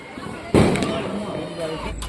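A single firecracker bursts nearby during Diwali with a sharp bang that fades quickly, while people talk around it.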